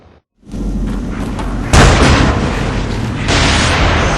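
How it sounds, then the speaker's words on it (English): Explosion killing a clown-masked enemy in The Evil Within: after a brief silence a rumbling roar starts, then a loud booming blast hits, followed by a second surge of heavy, noisy rumble. "Did you hear that explosion?"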